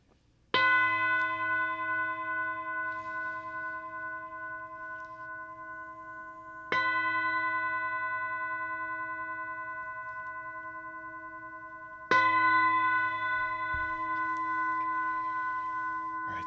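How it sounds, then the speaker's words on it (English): A meditation bell is struck three times, each ring bright and sustained with a long, slowly fading shimmer before the next strike; no voices, the tone hangs alone in a quiet room. "I'm going to ring this bell 3 times"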